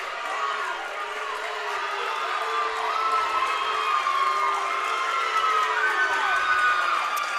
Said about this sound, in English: I am positive that you can hear the crowd interaction in our microphones